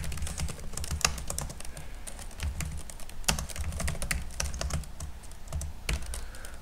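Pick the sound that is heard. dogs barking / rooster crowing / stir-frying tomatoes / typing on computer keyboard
typing on computer keyboard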